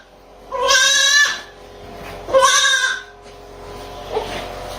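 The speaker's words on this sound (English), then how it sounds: "Hey, little goat." A small goat bleats twice in clear, loud, drawn-out cries about a second apart, followed by a fainter short sound, close by with quiet background.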